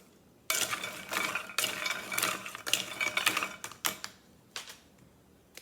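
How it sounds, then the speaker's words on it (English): Pam cooking spray spritzed in several short hissing bursts onto ranch-seasoned chicken for the air fryer, close and fairly loud, with small clatters between sprays and no talking. "I'm just gonna spritz a little bit of Pam"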